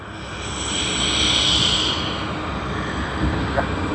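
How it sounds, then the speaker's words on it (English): A Qantas Airbus A330 at Sydney Airport produces a steady, broad engine roar that swells slightly and holds, heard from a distance with a faint whine above it. "That's the second A330 of Qantas, just like I had said."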